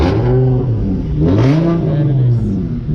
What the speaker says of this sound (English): That's the Subaru that was trying to race me.